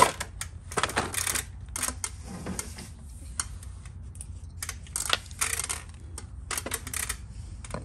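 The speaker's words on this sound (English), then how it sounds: "Open up my chisel pack here." A pack of chisels is opened at a workbench, producing a run of sharp plastic clicks, taps and crinkling packaging sounds in irregular bursts, close and moderately loud, with no talking.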